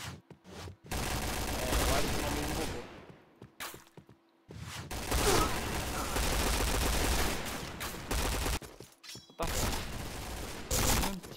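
Bursts of rapid gunfire in Point Blank, a video game, loud and close, with short pauses between volleys and a brief silence near the start.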